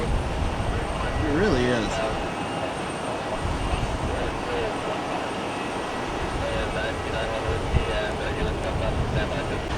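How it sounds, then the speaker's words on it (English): An Embraer E175 regional jet pushes back at Cleveland Hopkins airport, its engines a steady low roar and whine heard from a distance while people talk nearby. "Public Houseways E175 is pushing back."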